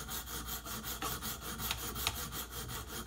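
A KME sharpening stone is worked back and forth along the blade of a Case knife, giving a quiet, rhythmic gritty rasp with evenly spaced strokes and no voices.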